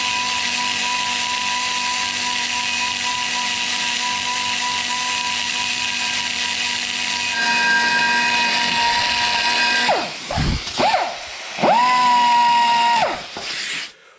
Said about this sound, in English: So what I do is just take a little grinder and we grind off